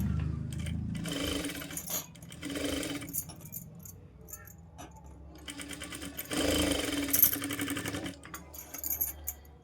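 Bursts of a sewing machine stitching piping onto a plain blouse, running in several short runs separated by pauses, with a clatter of handling between them.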